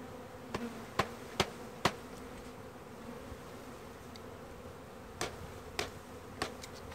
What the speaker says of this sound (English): Now there's still a lot of bees in there